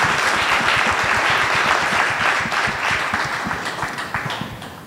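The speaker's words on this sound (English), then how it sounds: "let's give them a round of applause" An audience gives a dense, loud round of applause for the members of a data science panel on machine learning models in production, the clapping steady throughout and slowly tapering toward the end.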